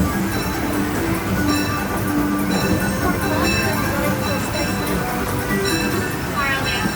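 The Disneyland Railroad train rolls into Tomorrowland Station with a steady, loud rumble and rattle of the cars, while a voice speaks over a loudspeaker throughout.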